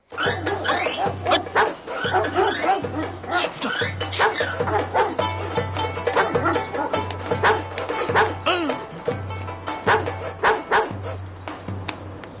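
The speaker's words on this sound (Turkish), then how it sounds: "Aa bu köpek nereden çıktı be?" A dog barks repeatedly in short bursts while people talk over it, and the barking comes through clearly at close range.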